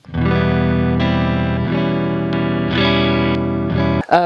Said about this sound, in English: the reverb sound itself, especially in the decays and when the level is being really pushed